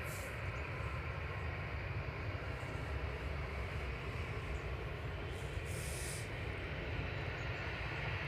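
A Jet2 Boeing 737-800 airliner at Manchester Airport gives off a steady, broadband engine roar, heard from a distance. The rumble stays continuous and even in loudness throughout, with no talk over it.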